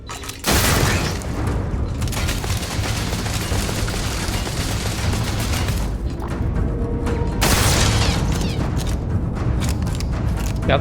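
Turret gunfire and explosions in the video game Starfield roar loudly and continuously, with dense rapid shots and booming blasts filling the whole stretch and a brief lull midway, and no clear talk over it.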